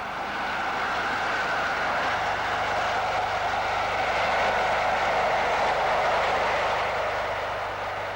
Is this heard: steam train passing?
yes